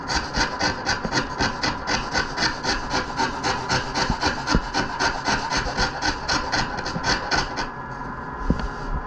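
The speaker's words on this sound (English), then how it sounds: "Now, like to use my rasp" A Surform rasp shaves wood in a steady run of close, rhythmic rasping strokes, each a bright scraping sweep, continuing for most of the stretch before easing off near the end.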